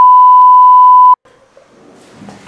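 A steady, loud sine-tone censor bleep lasting about a second, cut off abruptly and followed by faint background noise.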